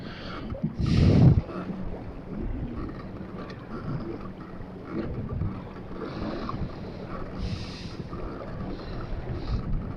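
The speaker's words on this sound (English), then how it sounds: "It's windy out here." Steady wind buffets the microphone outdoors on the water beside a fishing kayak, with a low rumble and a louder gust near the start, and faint water sounds underneath.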